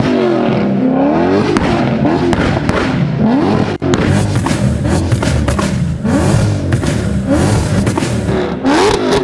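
A supercharged V8 swapped into a BMW E30 revs hard and loud at close range, its exhaust spitting flames with sharp pops and bangs between rising, repeated throttle blips.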